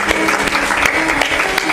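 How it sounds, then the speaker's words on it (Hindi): An audience claps in welcome at a satsang honoring a gurdwara's chief manager, a dense, steady round of applause that runs close and fairly loud for the whole stretch. "ताली बजाकर उनका अभिनंदन करता हूं"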